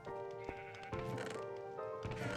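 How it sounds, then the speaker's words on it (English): Several Minecraft sheep packed tightly into a wool farm bleat in overlapping, nasal calls, one after another, at moderate loudness with no voices present. "Got one of every color sheep just packed in there."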